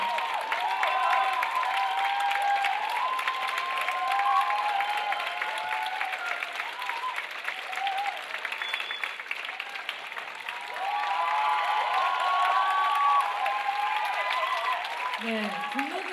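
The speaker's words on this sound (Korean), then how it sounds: "큰 박수 부탁드립니다." Steady applause fills a hall after a formation tango performance at a 2016 international championship, moderately distant, with a presenter's voice heard over it.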